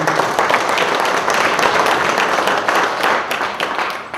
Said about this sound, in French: Donne-moi un applaudissement là-dessus.